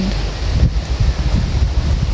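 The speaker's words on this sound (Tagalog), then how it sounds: "Sa side na ito, pumapaspas ang hangin." Wind gusts steadily across a plant garden, a continuous broadband rush buffeting the microphone with no voices.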